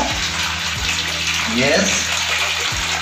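Strong, steady rush of water from a tap after a regulator was installed on a water tank line, loud and continuous close by, with a brief word spoken over it.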